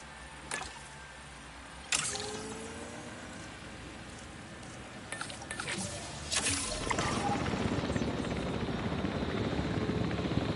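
A camera drone whirs steadily in Jurassic World Evolution 3, its rotor hum building into a dense, constant drone with a few sharp clicks and interface blips along the way.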